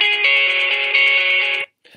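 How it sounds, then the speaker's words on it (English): Backing track of a pop-rock song, heard as bright sustained chords that play loudly for about a second and a half and then cut off abruptly. "First of all, you need to find the backing track, which sounds like this."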